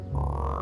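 A cartoon frog lets out one short, loud, sustained croak with a buzzy, nasal tone, heard alone and up close.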